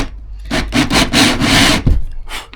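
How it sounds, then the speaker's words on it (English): A hole cutter bores through the metal floor panel of a Ford Transit mk8 van, giving a loud, continuous grinding rasp in several surging bursts, close up with no talking. "So I'm going to use a hole cutter."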